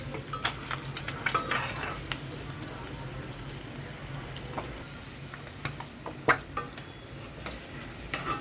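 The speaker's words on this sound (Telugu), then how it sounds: "గుడ్లు ఫ్రై అవుతున్నాయండి" Eggs fry in a pan, heard as a steady low sizzle, with close scraping and stirring clinks from a utensil against the pan scattered through it.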